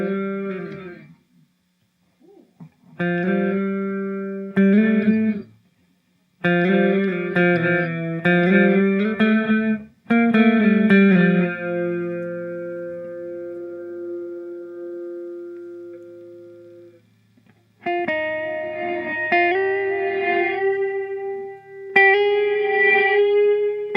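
Guitar played through a reverse reverb pedal: chords swell in with a backward build and then cut off, in several separate phrases with short silent gaps between them.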